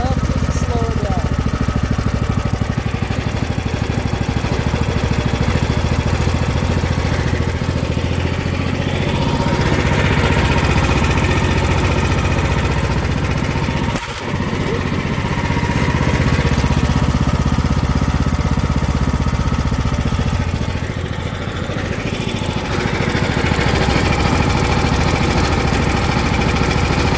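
DuroMax 500cc engine with a governor bypass throttle linkage running steadily as the idle is adjusted: a loud, continuous close engine rumble with a short dip midway, while someone talks over it.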